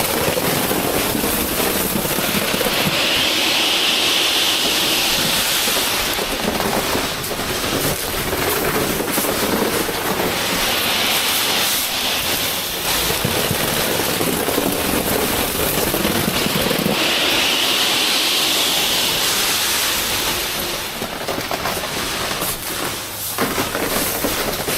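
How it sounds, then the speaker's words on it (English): Dried peas pouring out in a steady rushing patter like rain on a metal roof, continuous and loud with swelling hissy surges, no voices. "When they go out, it almost sounds like rain on a metal roof."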